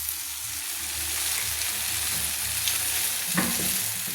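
Curry with prawns and spring onion greens frying in a pan, a steady close sizzle running throughout with occasional scrapes of a spoon stirring, one sharper clatter near the end.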